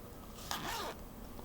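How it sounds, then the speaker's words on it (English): A single quick zipper pull opening a pocket on a spinning-wheel bag, a short raspy zip lasting under half a second, close by with quiet room tone around it. "this is a zipper pocket here"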